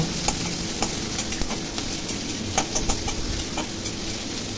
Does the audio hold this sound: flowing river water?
no